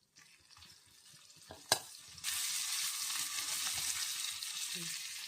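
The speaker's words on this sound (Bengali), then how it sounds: "এবারে শুটকি মাছগুলো ভেজে নেব।" Soaked dried amudi and mourala fish going into hot oil in a home kitchen: quiet scraping first, a sharp clack, then a sudden loud, steady sizzle that holds close up, with no talking.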